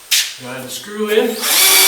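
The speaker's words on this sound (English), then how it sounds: "Go ahead and screw in." A hammer drill drives a screw through OSB into concrete block, with the clutch set on 5: a loud motor whine that rises and shifts pitch as it spins fast then slows, for under two seconds, with some talk in the background.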